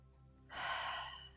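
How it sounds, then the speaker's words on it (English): A single deep breath during a ThetaHealing meditation, a soft, close, airy inhale swelling for under a second and then easing off, alone against a quiet background. "And then we take a deep breath."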